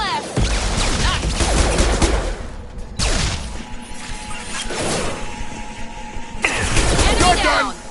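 Gunfire in Mass Effect 2 comes as loud bursts of shots with crashing impacts in several clusters, separated by brief lulls over a low combat background.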